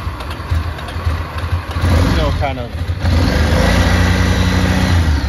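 A 2006 Ducati S2R 800 fuel-injected motorcycle engine idles in neutral just after starting, a steady low rumble with a brief rev, heard close up beneath people talking.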